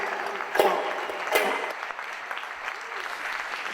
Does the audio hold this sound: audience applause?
yes